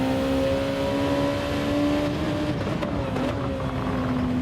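Race car engine in Gran Turismo 7 during an online lobby race, a steady loud drone with a sustained tonal whine that shifts slightly in pitch, continuous with no talking.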